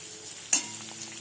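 Soybean chunks frying in a pan until browned: a steady low sizzle with a single brief stir or scrape, fairly quiet and close, with no voices.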